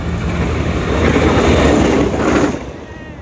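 SRT train 4301, a Thai passenger service, rumbles past loud and close with a steady roar and clatter that fades sharply near the end.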